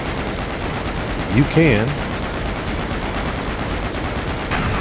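Steady rapid chain gun fire from the DOOM shooter, a continuous dense rattling stream running throughout, with a brief spoken phrase over it.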